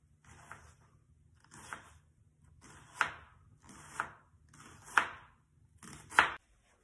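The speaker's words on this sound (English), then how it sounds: "grab half an onion and start to chop because it needs to be finely chopped" Half an onion being chopped finely with a knife, six distinct chops at roughly one-second intervals, each louder than the last, close and without talk.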